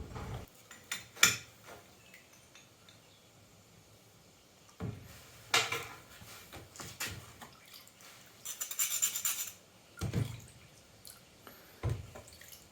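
Rusty metal parts lifted out of an Evaporust rust remover bath, giving scattered clinks and rattles of metal with drips and small splashes of liquid, nearby and fairly quiet, spread over several bursts.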